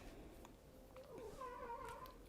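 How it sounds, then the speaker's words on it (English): A hyper domestic cat gives a faint, drawn-out wavering meow indoors, quiet against a low room background with no talk. "My cat is very hyper, so if you hear her, ignore her."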